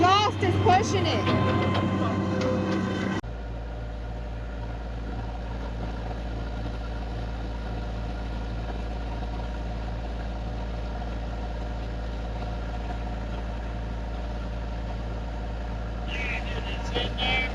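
A car engine idles with a steady low rumble and a rough drone from a rusty exhaust pipe, continuous throughout, with a brief louder rattle at the start.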